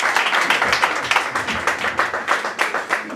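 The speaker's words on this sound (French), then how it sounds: "Then give a hand for yourself." A church congregation applauds during a bilingual English-French sermon, with steady, dense clapping throughout and a few louder individual claps rising above the crowd.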